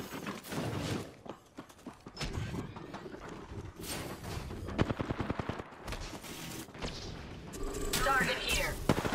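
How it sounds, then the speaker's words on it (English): Repeated gunshots and bursts of fire in the shooter game Apex Legends, sharp cracks scattered throughout at varying distances, mixed with in-game voice callouts and movement noise. "Getting shot at."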